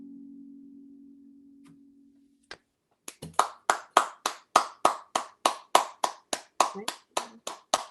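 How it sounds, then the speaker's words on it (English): Audience applause after a live folk song breaks out after a fading sung note and a short pause, a steady run of close, sharp, evenly spaced hand claps. "They're clapping for all of us."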